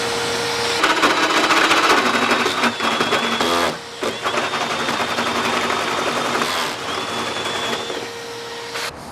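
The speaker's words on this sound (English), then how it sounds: "then we will drill through the top of this" Power drill boring holes through a carbon fiber part on an AE86 build: several whirring bursts starting and stopping over a steady mechanical background, fairly loud and close, with no talk.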